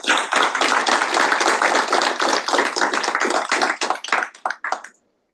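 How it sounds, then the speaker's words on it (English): An audience at a College of Business event claps for several seconds, dense and close, thinning to a few scattered claps before silence. "Everybody please give her a big round of applause."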